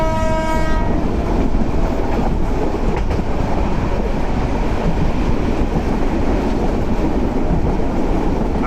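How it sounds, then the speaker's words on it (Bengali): Mymensingh Express passenger train running at night through a big curve near the Feni River, a loud continuous rumble and rattle of wagons with wheel clatter, a brief horn blast at the start, no talking. "এই যে ট্রেন কিন্তু বিশাল কার্ভ দিয়ে যাচ্ছে।"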